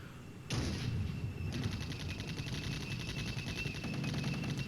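Weapon hits striking T-80 tanks in the wargame Flashpoint Campaigns: Red Storm: a sudden loud onset of dense, rapid gunfire-like bursts that continue steadily without pause, a rattling barrage with no talk.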